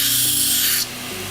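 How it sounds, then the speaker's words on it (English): A 2x72 belt grinder running a 50 grit belt against a D2 steel knife edge gives a loud, steady abrasive hiss with a low motor hum, and the grinding drops off near the end while the machine keeps running. "I like to establish my edge with a 50 grit belt and just save time that way"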